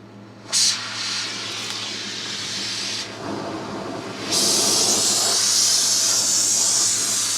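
Gas torch preheating metal before a silicon bronze build-up, a close, steady roaring hiss that pops on, settles, then swells louder and brighter as the flame is opened up, over a low background hum.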